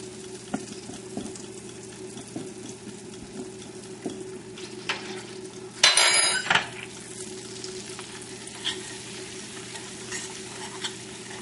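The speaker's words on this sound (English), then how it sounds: "Exactly 1 tablespoon of flour mixed with the butter." Flour stirred into melted butter in a pan for a creamy white clam sauce, a quiet low sizzle with soft scraping strokes and a brief louder burst of clatter near the middle.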